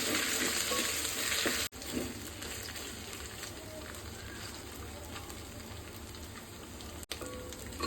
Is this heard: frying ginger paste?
yes